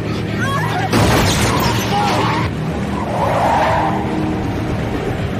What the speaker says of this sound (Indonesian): Terjadi kebut-kebutan di jalan raya.